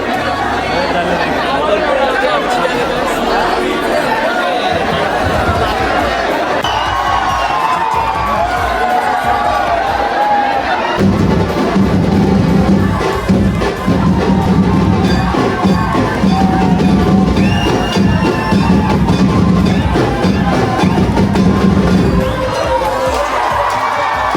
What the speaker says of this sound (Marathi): तर काय तुम्ही मंदिराच्या आतमध्ये आलोय. लय गर्दी आहे.